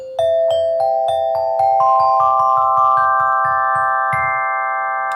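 An alto glockenspiel struck with hard rubber mallets plays a rising sequence of bright, ringing single notes in an even rhythm, each tone decaying softly, close and clear with no voices.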